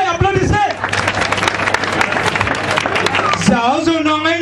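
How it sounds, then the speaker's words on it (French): Audience at an outdoor music event in Nkoteng claps and cheers amid a noisy crowd, with singing voices rising over the clapping at the start and end. "Applaudissez, applaudissez."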